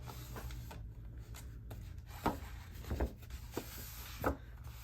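Paper bag being pressed down by hand to stick it together, giving soft papery rubbing and brushing with a few louder crinkly presses near the end, close and quiet, no talking.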